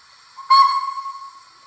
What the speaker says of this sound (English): We'll try toot whistle 10.